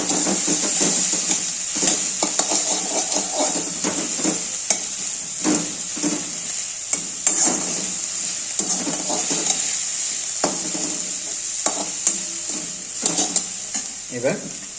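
Food stir-fried in a pan while cooking at home, an even sizzle with steady stirring scrapes and utensil knocks throughout, close and moderately loud, with no talk.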